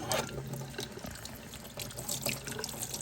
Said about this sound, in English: and then I just rinse it.